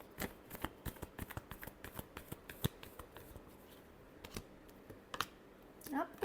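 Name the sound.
tarot cards being shuffled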